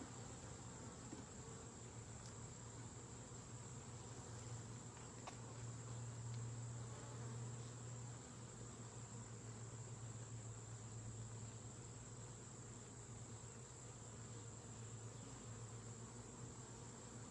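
Honey bees crowd an opened beehive, a steady, even insect drone hanging close and continuous throughout, with a low hum layered under it and no voices.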